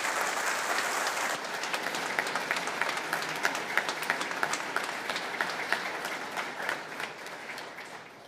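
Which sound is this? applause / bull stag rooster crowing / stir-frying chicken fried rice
applause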